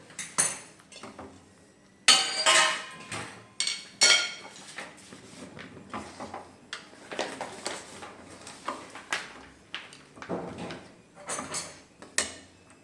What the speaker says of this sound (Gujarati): તો આ સિંગદાણાને આપણે ફટાફટ મિક્સ કરી દઈશું.